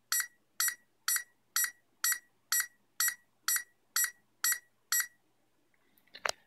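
An Arduino Uno burglar alarm beeps ten times in a steady rhythm, roughly two beeps per second, crisp and close, followed by a brief rustle or handling noise at the end.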